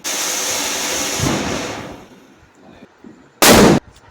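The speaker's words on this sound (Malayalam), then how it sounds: "ചെറിയൊരു ബോംബ് പൊട്ടിച്ച സൗണ്ടാണ് കേട്ടോ നിങ്ങളിപ്പോൾ കേട്ടത്" A small firecracker set off for the Vishu festival: about two seconds of loud hissing, a quiet pause, then one sharp, loud bang close by near the end.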